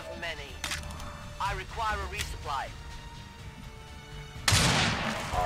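A rifle shot in the video game XCOM 2: War of the Chosen, a single loud burst with a lingering rumble near the end, after someone speaks over quiet game sounds.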